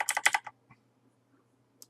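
Computer keyboard keys pressed in a quick cluster of crisp clicks, then a single tap after a pause and one more faint click near the end, heard close and alone.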